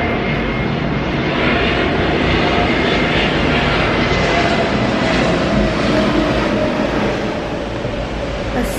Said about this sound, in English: A super loud plane.